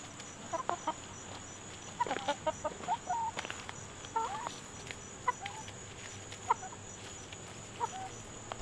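Chickens cluck and murmur in a backyard flock, with scattered short calls rising over a steady low background hum and no talk.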